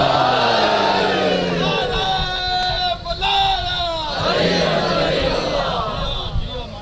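A crowd at a majlis gathering shouts a religious slogan in unison, loud massed voices rising together in chant-like cries, close and sustained over several seconds.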